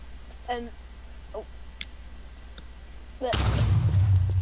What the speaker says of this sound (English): A nuke. It's a nuke, guys.